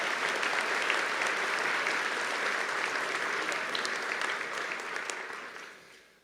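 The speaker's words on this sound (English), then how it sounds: "Let's give them another round of applause" Sustained applause from an audience at a university investiture ceremony, steady and dense for several seconds before gradually thinning and fading out.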